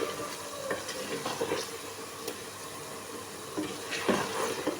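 Ground spices, including coriander powder and thick dried red chillies, fry in a pan for haleem while being stirred, a steady close sizzle broken by scraping strokes of the spoon.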